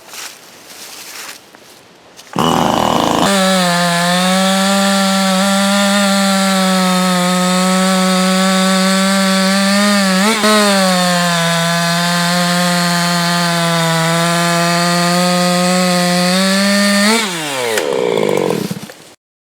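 A modified 50cc chainsaw with a modded muffler revs high and steady while cutting wood, loud and close, holding a sustained whine for about fifteen seconds before dropping off.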